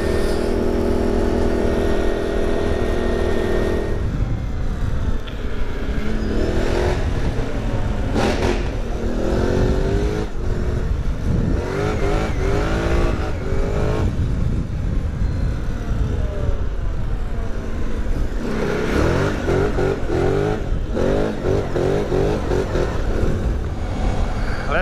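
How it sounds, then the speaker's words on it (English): A car engine revs hard while drifting, loud and close throughout, its pitch rising and falling in repeated surges with no break. "See if it'll drift this roundabout."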